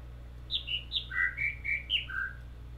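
Bird calls in the video game The Witness: a run of about eight clear whistled chirps at varied pitches, close and distinct over a quiet low hum.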